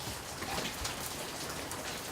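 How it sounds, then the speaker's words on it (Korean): Heavy rain falling early on a Sunday morning in a narrow alley, a dense, steady hiss of drops on surfaces with no pauses and no voices. "이른 아침부터 많은 비가 내리는 주일 아침."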